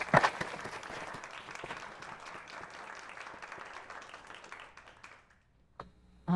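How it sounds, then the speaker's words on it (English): A meetup audience applauds panelists after a panel discussion on career transitions, with steady, moderately loud clapping from a crowd that fades out after about five seconds, then a brief burst of noise. "let's give our panelists a round of applause"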